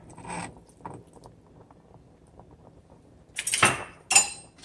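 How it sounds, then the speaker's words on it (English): Oxtails and broth stirred in a Cosori pressure cooker pot: a few clinking scrapes of a utensil against the metal insert, scattered with quiet gaps, the last two louder and sharper. "And then I'll give it a good stir"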